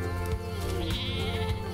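A large flock of sheep bleats continuously at close range, with several overlapping calls forming a steady, loud chorus.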